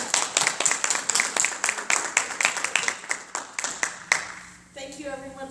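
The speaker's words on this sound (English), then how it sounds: "And a round of applause for our panelists." Audience applause for a panel of speakers at an employer panel event, a steady run of close, sharp hand claps lasting about four seconds, then dying away into quiet room tone.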